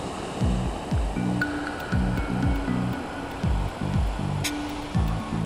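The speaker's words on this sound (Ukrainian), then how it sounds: "Такий от океан" Seen from a cliff edge on Tenerife, the ocean makes a constant rushing surf noise that rises and falls gently in waves, with no one talking.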